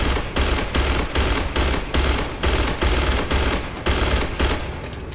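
A turret in Starfield fires sustained automatic bursts, a loud, continuous rattle of gunfire broken into repeated rhythmic volleys with brief gaps between them, with no voices over it.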